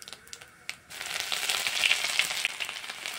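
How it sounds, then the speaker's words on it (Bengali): Chopped ginger frying in hot oil with panch phoron and cumin, a steady close sizzle that rises suddenly and then keeps crackling, with no talk. "আদা কুচিটাকে হালকা একটু ভেজে নেব।"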